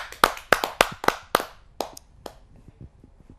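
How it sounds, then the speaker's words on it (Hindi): Audience at a Hindi kavi sammelan poetry gathering clapping to welcome a poet, several sharp bursts of claps in quick succession that thin out and fade to a few scattered faint claps. "मैं उनका जोरदार तालियों से स्वागत करता हूं इस चौपाल।"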